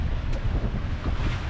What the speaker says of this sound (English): this gust is passed and it's now going already 20 knots of wind